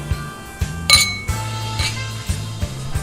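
Glasses clink together sharply a couple of times, bright ringing taps over a low steady hum, with no voices.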